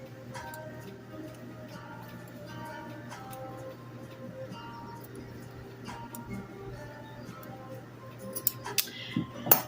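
Scissors snip off loose thread ends on a sewn button embellishment, with a few quiet, sparse close clicks and snips over a low steady hum, ending in slightly louder cuts and rustling.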